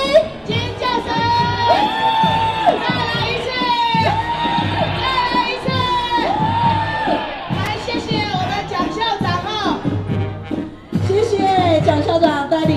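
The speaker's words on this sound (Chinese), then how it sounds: "尖叫声！" A large crowd, many of them children, screams and cheers loudly and continuously at a National Day marching band parade and competition, a dense roar of shouts and whoops with a brief dip near the end.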